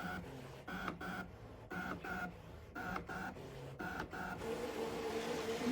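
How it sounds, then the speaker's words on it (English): A Brother Scan n Cut machine draws a hexagon for patchwork, its motor whirring in short repeated bursts with brief pauses, close and steady, with no talking. "It's drawing our 5th hexagon at the moment."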